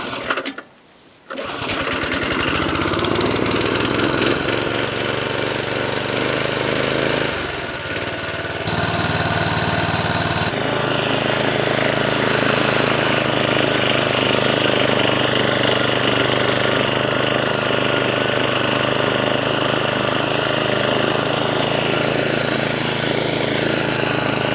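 A 1979 lawn mower engine runs loud and steady after a brief start, its rough buzzing drone dropping for a moment around the middle before settling back into a continuous, close, rattly hum.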